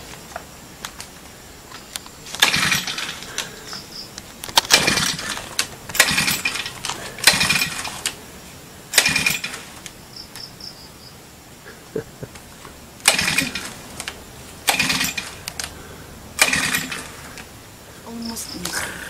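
A lawn mower engine is pulled again and again, each attempt bringing a short loud sputtering burst that dies away, with pauses between tries and people talking nearby.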